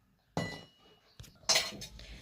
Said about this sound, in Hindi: बर्तन में से बर्तन निकाल के